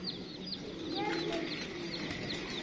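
Pure Imam Deen pigeons in a Lahore loft give soft, repeated cooing calls close to the microphone, with low murmurs and some background chatter over steady ambient noise.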